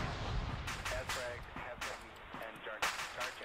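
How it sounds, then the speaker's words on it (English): Blown-up vehicles exploding in Arma 3 during a modded squad firefight, several sharp bursts and booms at irregular intervals, fairly faint and distant under continuous background noise. "So I'm hearing explosions down here. It's because they blew up all these vehicles."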